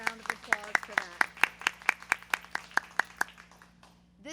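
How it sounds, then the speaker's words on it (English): Applause at a school moving-up ceremony comes as a thin run of individual, evenly spaced claps, fairly close and distinct, slowing and fading out toward the end. "So a huge round of applause for that."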